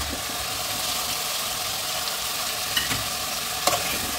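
Onion and ginger paste fries in hot oil in a pan, giving a steady, close sizzle with a couple of sharp clicks as it is stirred, no voices.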